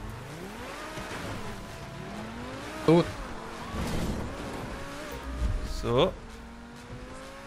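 A car driving in the video game GTA Online on a custom wallride jump map, engine droning steadily with shifting pitch and a couple of sharp thumps, under someone talking.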